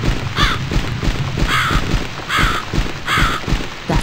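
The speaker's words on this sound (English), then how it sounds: "That should scare the bird away." Crow caws sound in the video game The Cat Lady: four harsh, evenly spaced calls over a steady background of game ambience, with no talking.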